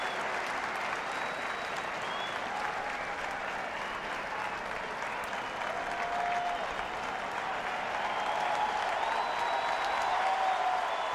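Baseball crowd at PNC Park in Pittsburgh cheering and applauding for a pitcher, a steady broad roar of clapping and voices that swells slightly toward the end, heard from within the stands.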